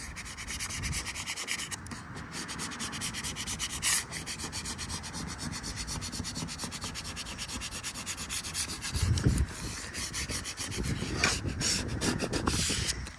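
A credit card is rubbed firmly over a vinyl car decal with a Puerto Rican design, pressing it through the transfer tape. The result is a steady, close scraping and rubbing that continues throughout, with a few stronger strokes partway and near the end and no talk.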